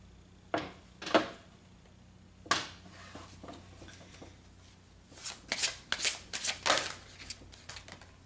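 A deck of guidance cards is shuffled close by, with a few sharp riffles followed by a quicker run of soft, fluttering shuffles in a quiet room.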